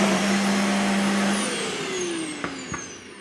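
A Hart DC1000 canister vacuum runs at maximum suction, a loud, steady, close whine with a droning hum that eases slightly near the end, broken by two quick knocks.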